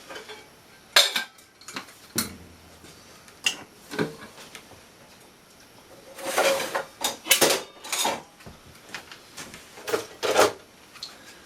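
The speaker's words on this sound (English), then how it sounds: "The pans, they all go up here on their little respective hooks." Pans and dishes clatter and clink in a log cabin kitchen, with sharp metallic knocks and scrapes as cookware is handled and hung on hooks, busiest in the middle, close and moderately loud.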